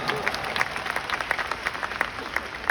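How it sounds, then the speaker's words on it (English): Arena crowd at a comedy show applauding, dense clapping from a large audience with distinct sharp claps standing out near the microphone, lasting a few seconds with a little crowd noise beneath. "Give them another clap"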